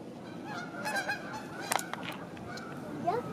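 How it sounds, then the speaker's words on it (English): Many Canada geese honk repeatedly at a moderate distance over a steady outdoor hum, their calls overlapping in loose, irregular bursts. "The bird, ooh, Canadian geese, so many"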